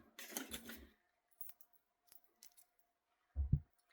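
Small scissors snip false eyelash strips in a quiet room, giving a few faint, sharp clicks and cuts that are spaced apart, with one louder snip near the end.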